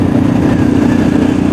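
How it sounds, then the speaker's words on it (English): A Yamaha XT660X fitted with a noisy exhaust drones steadily and loudly while ridden on A roads and town roads, with no break in the engine note. "It's got the noisy exhaust system on."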